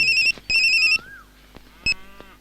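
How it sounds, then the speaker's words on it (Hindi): Mobile phone ringtone in a dubbed action film scene: two bright electronic trilling bursts, a short pause, then a brief third chirp, loud and close with no one speaking over it. "भाई डीसीपी का फोन"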